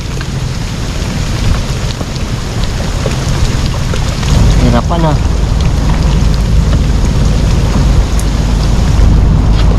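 Heavy rain pours steadily in a rural Philippine setting, a dense continuous roar mixed with gusty wind, and a voice speaks briefly partway through.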